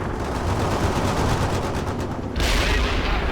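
Rapid automatic gunfire from an Apache gunship in the World in Conflict game, a dense continuous rattle of shots that swells louder partway through, with no talk.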